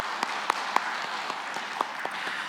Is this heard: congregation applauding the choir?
yes